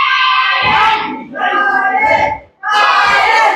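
A wrestling crowd at a tag team championship match roars in loud, shouting bursts, briefly dipping before surging back, with youthful voices prominent.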